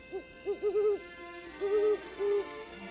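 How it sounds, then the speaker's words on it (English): An owl hoots repeatedly in soft, rounded, rising-and-falling calls, grouped in short runs with brief pauses, clear against a quiet background. "heard their spooky hooting echoing through the dark and lonely night"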